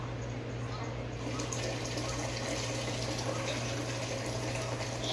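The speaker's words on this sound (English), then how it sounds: "so I'm gonna pour the water into my pot that is on the stove right there" Boiled water from a kettle poured into a pot sitting on a stove, a steady continuous splashing pour that runs the whole time, fairly close and moderately loud.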